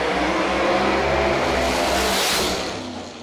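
Drag racing cars at the Yellow Bullet Nationals, one converted from Pro 275 to LDR trim, launch hard with a loud roaring engine note that holds and then fades as they pull away down the strip.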